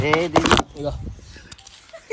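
A ring of keys for a new motorbike jangles and clinks in short metallic bursts after a person speaks loudly at the start, with light rattles continuing toward the end.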